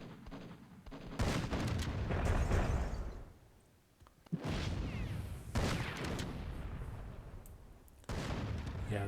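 Artillery and gunfire in the video game Myth II Soulblighter during a WWII-themed battle, dense rumbling blasts and crackling shots in repeated loud bursts with short lulls between.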